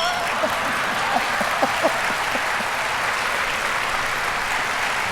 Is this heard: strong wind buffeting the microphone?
no